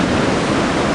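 Ocean surf at Anglet washes in as a long west-northwest swell breaks on the beach, a loud, dense and steady rush of water with no speech.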